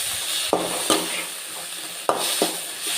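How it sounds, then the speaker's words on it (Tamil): A spoon stirs tomatoes frying in a pan, four distinct scraping knocks over a steady low sizzle, close and fairly loud. "ஸோ இந்த மாதிரி நல்லா வந்து கிண்டிக்கோங்க"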